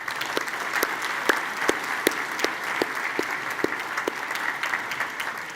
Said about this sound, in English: Please join me in giving the entire group one last round of applause